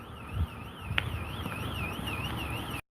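A car alarm wails outside among abandoned cars with doors left open, a rising-and-falling electronic warble repeating steadily at a moderate distance, with faint background noise and a sharp click partway through before cutting off abruptly.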